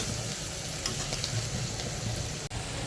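Sliced onion frying with salt in a hot pan for dal khichdi, a continuous close sizzle with a soft crackle throughout, no voices.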